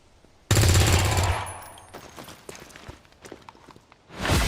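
Burst of automatic gunfire in the turn-based strategy game XCOM 2, a loud sharp volley at the start that fades, followed by scattered clicks and thuds and a final swelling rush.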